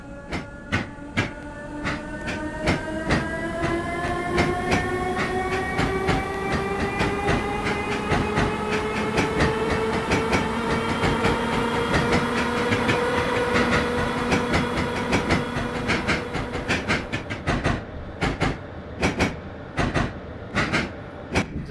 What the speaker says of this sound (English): It's a very pleasing traction motor whine.